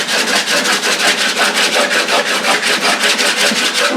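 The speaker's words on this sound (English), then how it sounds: "grab a sanding block like this and sand those scratches" Steady back-and-forth scraping of a sanding block across wooden instrument sides, rapid and rhythmic strokes, close and fairly loud, with no voices.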